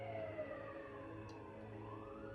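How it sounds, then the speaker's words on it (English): A distant police siren wails faintly behind a steady low background hum, its gliding tone barely rising over the ambience. "I think that's the police siren"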